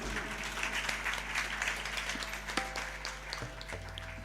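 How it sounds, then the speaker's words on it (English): An audience claps at a stage performance, a continuous patter of applause at moderate level over a low steady electrical hum, with a few sharper individual claps standing out. "a huge round of applause for them too"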